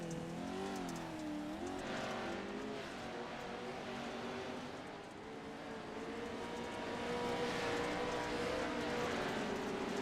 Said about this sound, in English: you can just hear the throttle control